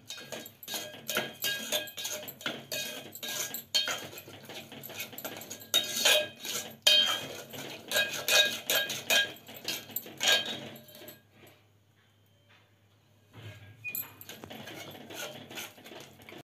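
A spoon stirs sweet pongal with jaggery in a metal pot, scraping and clattering rapidly and steadily up close for about eleven seconds, falling silent briefly, then resuming.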